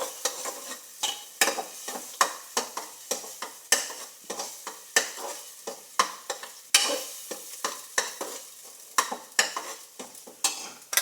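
Oil fries in a pan for vegetable sagu, a soft sizzle broken by brisk, regular scraping strokes of a spatula stirring, close up and steady throughout, without speech.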